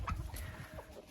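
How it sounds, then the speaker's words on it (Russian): A rooster guarding his hens gives a few soft, low clucks, faint and close, over a quiet farmyard background. "Петух тоже занимается охраной своих курочек."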